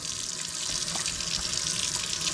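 Tap water runs steadily into a cooking pot of figs and sugar for old-fashioned fig preserves, a close, continuous splashing flow with no talking.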